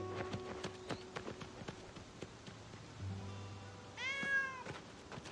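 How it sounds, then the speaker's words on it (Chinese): A small kitten gives a brief, high, wavering meow near the end, close but fairly soft, following a stretch of quiet indoor rustling and a few light taps. "有一只小猫"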